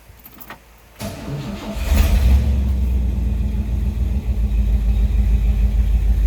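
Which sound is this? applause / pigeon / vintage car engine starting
vintage car engine starting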